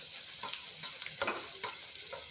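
Puri fries in hot oil, a steady crackling sizzle with bursts of bubbling and a few light stirring clicks, close and fairly quiet with no voices.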